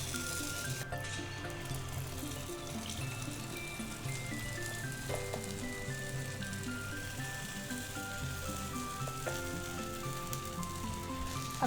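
Millet appe batter sizzling in an appe pan, a steady close hiss of frying throughout, with faint clinks and a soft tonal background.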